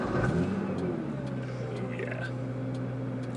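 A Nissan GTR accelerates hard from inside the cabin, its engine rising in a strong sweep and then holding a steady, loud roar, with a voice speaking briefly over it.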